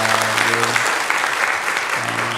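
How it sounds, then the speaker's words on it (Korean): A church congregation claps in welcome for a first-time visitor during a Sunday morning service, a brief burst of steady, fairly loud applause with a low hum of voices at the start and end. "우리 박수로 우리 한번 환영하도록 하겠습니다"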